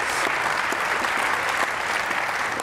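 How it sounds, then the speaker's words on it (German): An audience claps steadily throughout at a Swiss building trade fair panel event, a dense, even wash of applause with no pauses and no talking over it. "Ja, klatschen Sie noch."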